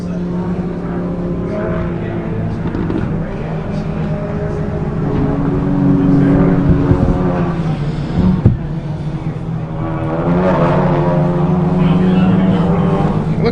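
Race car driving through the esses at Buttonwillow during a GTA finals session, its engine a steady droning roar that swells and shifts with throttle changes, heard from a trackside distance under a continuous talking voice.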